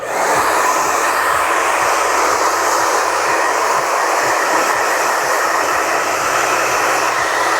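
A hair dryer blows steadily on a man's freshly cut, textured short hair, a loud unbroken rushing whoosh from start to finish, with faint low thumps of handling underneath.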